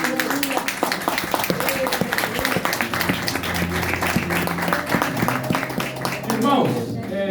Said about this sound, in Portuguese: Pode tomar seu assento aplaudindo a Jesus